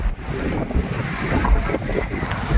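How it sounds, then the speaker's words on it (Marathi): Sea waves surge and splash over a jetty at Jeevna Bandar, Shrivardhan, a continuous rough wash of water with gusting wind buffeting the microphone. "बघा मस्तपैकी पाणी येते बघा वरून"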